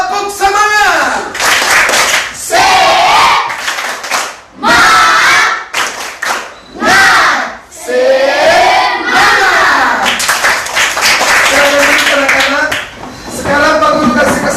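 Schoolchildren in a classroom shout a rhythmic chant in bursts, clapping along in unison with short pauses between phrases, loud and close.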